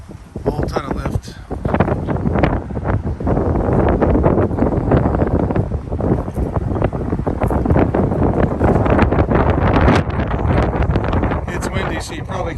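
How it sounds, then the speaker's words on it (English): Strong wind buffets an outdoor microphone beside a heavily lifted truck on 54-inch tires, a loud continuous low rumble with gusty surges throughout, and someone talks over it. "It's windy, so you probably can't even hear me."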